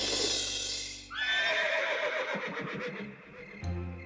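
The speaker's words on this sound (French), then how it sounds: "c'était un hennissement qui devait venir de la prairie" A cartoon horse in a meadow lets out a loud, drawn-out whinny that wavers and trails off, then a brief snort, alone and close.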